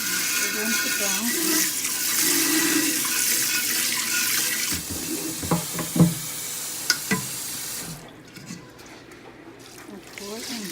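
Water pours steadily from a tap into a basin while rinsing sticky rice, with a few clinks and splashes before the flow stops near the end.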